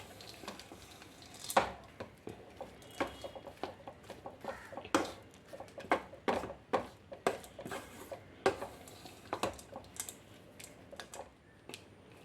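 Aval, flattened rice, being stirred with fried gram, nuts and black sesame, heard as irregular sharp scraping clicks and clatters of a spoon against a pan, close and fairly quiet, with no talk.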